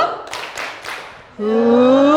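A classroom of students claps a quick rhythmic pattern of three sharp, close claps, then voices break into a loud sung chant.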